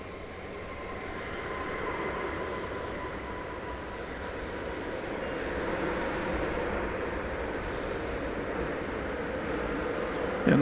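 An airliner passing at DFW Airport gives a steady, loud broadband jet roar that swells slightly midway and holds throughout, with no voices over it.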